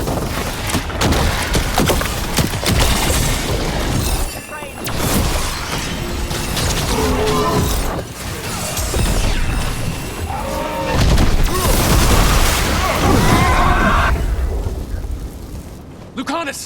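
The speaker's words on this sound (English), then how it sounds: "They're firing at us!" Gunfire and blasts from enemies shooting at the party during a ritual battle in Dragon Age: The Veilguard, dense and loud throughout with booming bursts, under shouted character voices.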